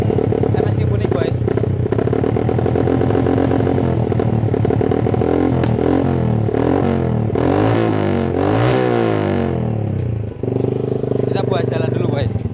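A yellow motorcycle engine warming up, idling with a steady rumble and swelling in a few revs, heard beneath people talking throughout.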